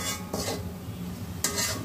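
Spiced curry with ginger-garlic paste stirred in a home pan, giving soft scraping strokes near the start and again toward the end over a low, steady frying hiss.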